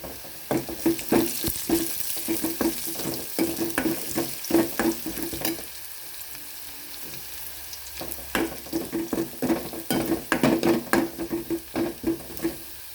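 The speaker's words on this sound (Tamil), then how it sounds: "வெங்காயம் நல்லா வதங்கிடுச்சுங்க" Onions and curry leaves sautéing in a pan for dried-fish thokku, a close, continuous sizzle broken by bursts of spatula scraping and stirring, with a quieter pause in the middle.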